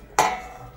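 A lid clatters onto a cooking pot of thin home-style mutton curry, one short bright metallic clank that rings briefly and fades over a low kitchen hum.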